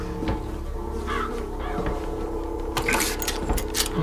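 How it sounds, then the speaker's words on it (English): Crows caw repeatedly in the video game Bioshock Infinite, harsh calls rising over a low game ambience hum, joined by a few brighter clanking bursts near the end. "They're crows."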